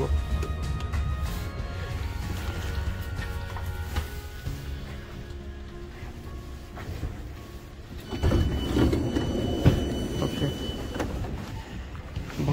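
A metro train stands at a central station in Finland, with a steady electrical whine and hum, whirring doors, and a louder rumbling swell of movement partway through. The interior sounds close and even.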